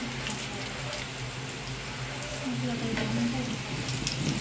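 Chili flakes sautéing in a pan for spicy ramen give a constant dense sizzle and crackle, even and close throughout, with a faint murmur in the background.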